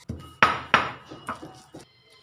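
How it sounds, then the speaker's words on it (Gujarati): Garlic pounded into a paste for chili garlic laccha paratha, a handful of sharp metallic-wooden strikes of a pestle in a mortar, uneven rhythm, close and fairly quiet with no talking. "લસણને આપણે ફોલી લઈશું આપણે એની પેસ્ટ બનાવવાની"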